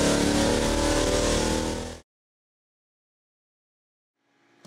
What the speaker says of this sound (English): we have our 440 cubic inch Motown LS on the dyno